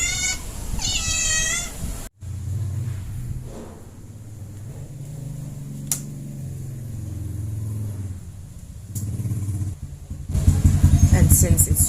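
A house cat meows close by, a couple of rising cries near the start, then goes quiet while a rumbling wet backdrop of a typhoon rainstorm fills the rest.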